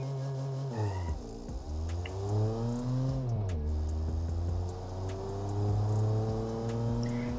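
A milk van accelerates in the BeamNG driving game, its engine note climbing in pitch, dropping briefly as it shifts, then rising again steadily, loud and close with no talking.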